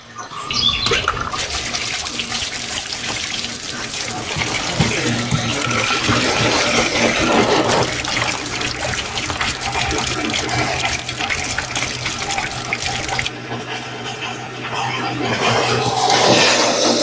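A steady rush of water splashing and gurgling from a boat's bilge pump on a Sea-Doo Challenger, continuous and fairly loud, with a brief dip in flow near the end.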